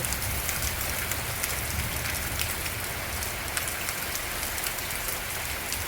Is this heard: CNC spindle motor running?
no